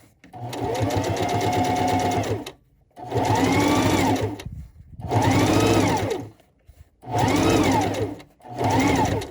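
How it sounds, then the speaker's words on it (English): A sewing machine stitches down the folded edge of a fabric drawstring gift bag, running in five steady bursts separated by brief pauses, close and clear with no talking. "So let's just stitch all the way down, lining up our little folded edges of our drawstring."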